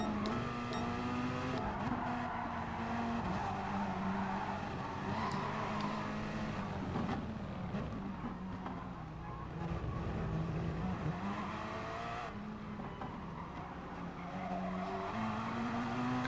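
Race car in Gran Turismo Sport at Interlagos sliding off track in understeer, with continuous engine drone and smeared tyre skidding noise running steadily throughout, fairly loud and without talk.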